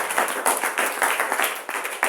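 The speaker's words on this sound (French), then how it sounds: "Acclamez pour Jésus." A church congregation claps for Jesus during a Sunday worship service, a quick, fairly steady rhythm of many hands close by.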